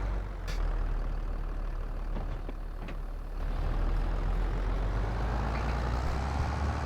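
A farm vehicle in Farming Simulator 22 drives out of a field, its engine a steady low rumble that swells slightly partway through, continuous and fairly close with no talking.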